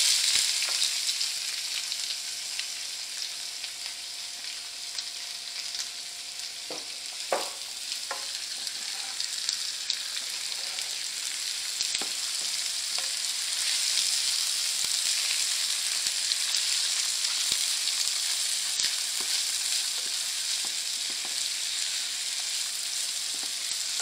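Finely chopped onions fry with whole spices in oil on a medium flame for dhaba-style bhindi masala, a long, steady, hissing sizzle with occasional stirring clicks and light scrapes.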